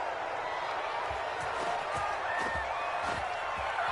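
Stadium crowd in a PS4 football video game reacting to a penalty call, a steady broad roar of many voices with scattered whoops and claps across the whole stretch, while a commentator's voice talks over it.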